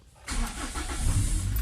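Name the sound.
car engine starting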